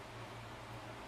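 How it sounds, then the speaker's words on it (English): A faint, steady room hum with a low buzz and airy hiss, like a nearby air conditioner running, fills the quiet space without any other sound. "All I hear is the air conditioner right now buzzing in my ears."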